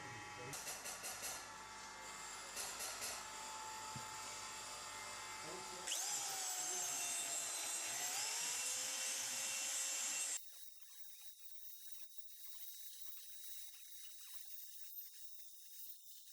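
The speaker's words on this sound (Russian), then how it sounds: "Стандартно использую для этого шарошки." Rotary burrs grind excess weld off a Volkswagen Crafter 2.0 TDI cylinder head, making a steady, high-pitched whirring rasp that changes pitch partway through and then cuts to a thinner whine.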